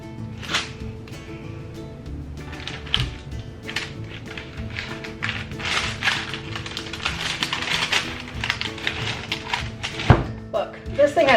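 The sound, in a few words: cutting a block of handmade cold process soap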